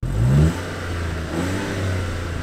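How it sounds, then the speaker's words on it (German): Naturally aspirated 1.0-litre inline three-cylinder engine of a 2021 Skoda Fabia 1.0 MPI, 80 PS, revs in one short, loud burst, then settles back to a steady idle, heard close and alone. "So hört er sich an, der 3 Liter, nein, der 1 Liter Reihen-Dreizylinder, der hier verbaut ist, der Sauger."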